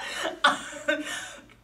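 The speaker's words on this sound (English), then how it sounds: "I just have to clear my throat." Three short, harsh throat-clearing bursts from a speaker during a recruiting webinar, close to the microphone with brief pauses between them.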